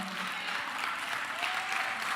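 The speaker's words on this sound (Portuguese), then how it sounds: "Pode aplaudir se for verdade no seu coração isso" Audience applause in a church leadership seminar, a steady dense wash of clapping from a crowd that holds loud and even throughout without a break.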